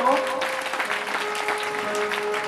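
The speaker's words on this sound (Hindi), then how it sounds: "जोरदार ताली माताओं बहनों भक्तजनों" Audience applause at a stage gathering of devotees in Gorakhpur, a steady dense clapping lasting throughout with a constant tone and voices mixed in beneath it.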